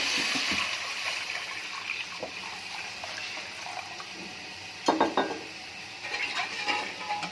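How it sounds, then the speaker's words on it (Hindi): Water splashes into a pot of chicken and tomatoes, a liquid rush with some clatter of the pot. It fades, then comes back in short, louder spurts near the end. "अब इसमें हम जो है पानी ऐड करेंगे,"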